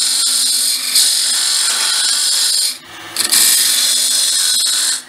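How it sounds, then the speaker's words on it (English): A Robert Sorby hollowing tool makes a gentle cut into spinning wood on a lathe, giving a close, steady hissing scrape that pauses briefly and then resumes, with no talk. "hollowing with a Robert Sorby. Nice gentle cut."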